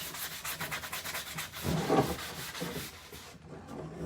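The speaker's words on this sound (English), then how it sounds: "So I'm just like scuffing it up a little, not very much." Light scuffing and rubbing across the surface of a D-size chalk transfer, a soft, steady abrasive rasping with brief strokes, heard up close with no talk.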